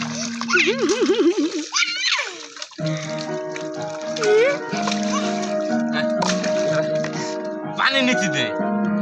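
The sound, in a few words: water splashing while bathing a child outdoors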